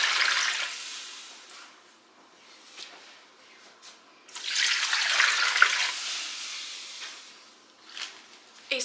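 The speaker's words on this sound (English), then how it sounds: "we're adding 8 cups of water" Eight cups of water pour into a roaster in a home kitchen, making a hissing, splashing rush in two bursts separated by a quieter pause.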